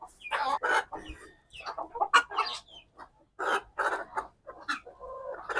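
A native deshi hen, just let out of its coop, clucks outside in a string of short, close, uneven bursts separated by brief quiet gaps.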